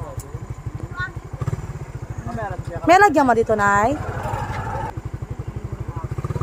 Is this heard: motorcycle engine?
yes